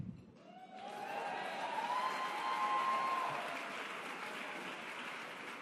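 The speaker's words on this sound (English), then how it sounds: "You're going to regret that clap." An audience claps during a comedian's speech at a Women in Entertainment event. Applause swells after a moment into a sustained wash of many hands, then slowly thins, with no one speaking over it.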